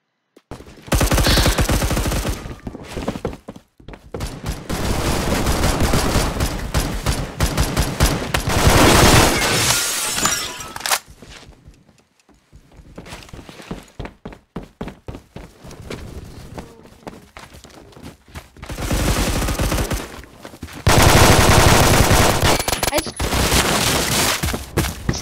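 Rapid DMR rifle fire in Roblox Phantom Forces, loud bursts of repeated shots in several long stretches with brief gaps, mixed with game effects and a player talking.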